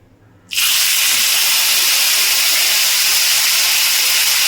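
Hilsa fish pieces hit hot oil in a pan and set off a sudden loud sizzle that leaps from near silence into a bright, steady hiss and holds at full strength.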